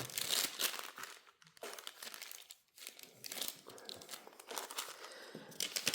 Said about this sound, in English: Alright, I'll fold this over.